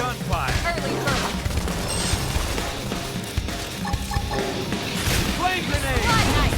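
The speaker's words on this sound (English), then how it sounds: "Now, topple them with some gunfire." Gunfire from the video game Xenoblade Chronicles X crackles in a dense battle mix of booms, impacts and music, with character voices calling out over the constant din.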